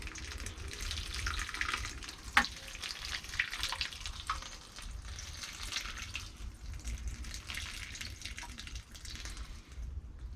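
Water pours from a watering can onto sown bonsai seeds, splashing steadily in a continuous trickling stream, with a few louder drips and spatters along the way.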